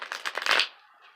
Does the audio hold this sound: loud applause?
no